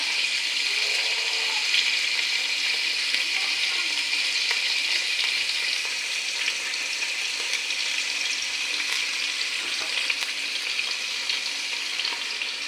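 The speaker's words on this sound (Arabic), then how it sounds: "هسه حبايبي جاي نحمس الكسور." Broken pasta pieces (kasoor) fry in a pan for a tashreeb dish, giving a steady close sizzle with occasional stirring scrapes and light rattles.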